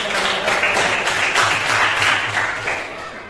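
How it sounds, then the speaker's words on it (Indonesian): Classroom applause for a student group, steady dense clapping from many hands that fills the room continuously for a few seconds, then fades slightly at the end. "Kita berikan aplaus dulu kepada kelompok 1"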